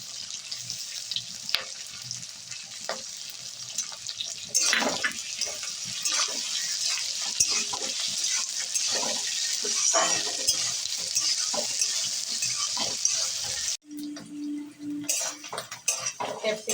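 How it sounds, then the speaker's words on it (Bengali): Onion, capsicum and green chili with ginger paste fry in a pan for chili paneer gravy, a steady sizzle broken by frequent scraping and clinking of a metal spatula against the pan, then a brief low rumble near the end. "ক্যাপসিকাম দিয়ে কাঁচা লঙ্কা, ক্যাপসিকাম, পেঁয়াজ নাড়ানো হয়ে গেছে আমার।"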